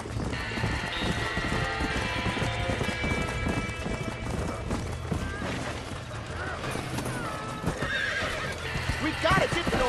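Horses whinnying and hooves clattering as a barn burns in the video game Red Dead Redemption, amid a dense, loud mix of commotion, with voices talking over the scene throughout.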